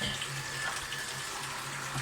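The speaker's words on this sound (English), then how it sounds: "You can see the water coming in the top there and going out through the bottom." Water runs steadily through a pump in a backyard ice rink test setup, a continuous close rushing and trickling with a low pump hum beneath, no speech.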